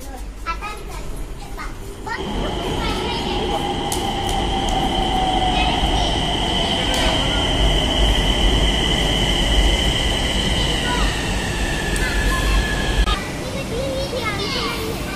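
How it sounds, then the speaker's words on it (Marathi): A Nagpur metro train pulls into the station, a loud steady rumble with rising and falling brake whine lasting about eleven seconds, with voices and children's chatter faintly in the background. "आता आपली मेट्रो येणार आहे"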